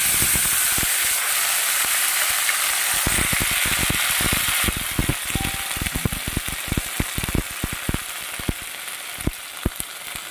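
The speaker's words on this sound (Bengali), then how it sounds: "জিরেটা ভাজা হয়ে গেছে, দিয়ে দেব টমেটো," Tomato, green chilli and ginger-cumin paste go into cumin seeds frying in hot oil, raising a loud, steady sizzle and hiss that then settles into crackling broken by sharp clicks of stirring.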